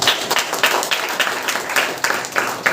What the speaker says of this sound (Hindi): एक जोरदार ताली से उन्हें वेलकम करेंगे आगे।